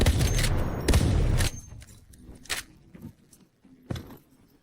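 Gunfire in the video game Delta Force, a dense burst of shots followed by scattered single booming reports and thuds, loud and close at first, then sparser.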